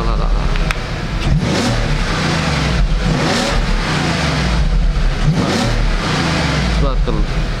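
An Audi A8L's W12 engine revs repeatedly, surging and falling in throaty bursts close by, with voices talking over it.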